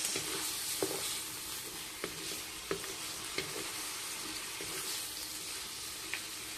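Chicken liver fries in a pan with continuous sizzling, a few sharp clinks and scrapes of stirring spaced through it, close up and no talking.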